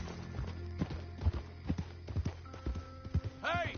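Horse hooves clip-clop at a steady walking pace in the Western game Red Dead Redemption 2, moderately close, with a voice and a brief whinny-like tone near the end.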